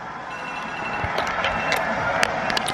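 A phone timer alarm goes off indoors, giving a series of short, sharp electronic beeps over a steady background hum with no voices.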